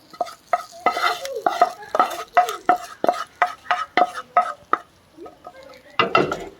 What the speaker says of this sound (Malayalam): ഇനി ഈ താളിപ്പ് നമ്മുടെ കറിയിലേക്ക് ചേർത്ത് കൊടുക്കാം